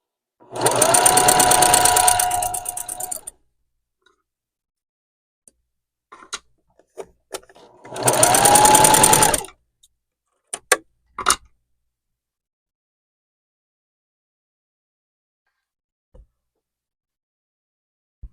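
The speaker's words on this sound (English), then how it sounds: "So I'm just going to sew right there." A sewing machine stitches a quilt block in two steady bursts of rapid stitching, each a few seconds long, separated and followed by light clicks and handling taps.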